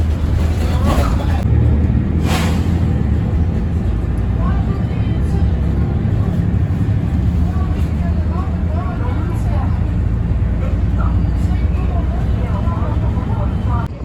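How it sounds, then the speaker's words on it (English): Riding a bus into Paphos old town, the engine drones as a loud, constant low rumble with road noise, and voices murmur faintly beneath it. "That was about a 12-minute journey on the bus"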